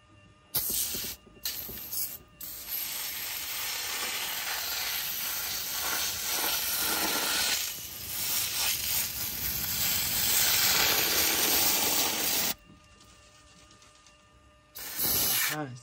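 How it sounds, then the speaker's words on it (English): Chemical cleaner sprays in close, loud hissing bursts between the AC condenser coils of a Tesla. A few short spurts lead into a long steady spray, which breaks off and then starts again near the end. "I'll start in between the coils first, spraying"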